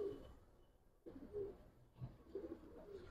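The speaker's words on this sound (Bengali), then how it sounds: "উঠতের জন্য খুব ভালো কবুতর এগুলা ভাই" Young pigeons give soft, low coos in short bursts separated by quiet gaps, faint and close, with no talk.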